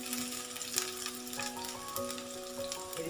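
Capsicum frying in hot oil, a steady close sizzle with occasional stirring clatter and some faint tonal background hum throughout.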